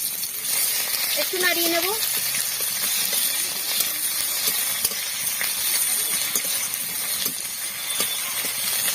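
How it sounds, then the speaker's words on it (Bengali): Chopped onion hits hot oil after the spice tempering for a Bengali egg and cabbage dish, giving a steady, close hissing sizzle that runs the whole time while a voice speaks briefly over it. "এখন আমি পেঁয়াজ কুচি দিয়ে দেবো।"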